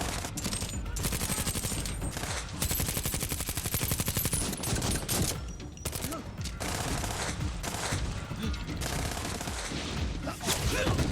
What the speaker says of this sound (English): The only one person that's been established in the show with a sniper is Mike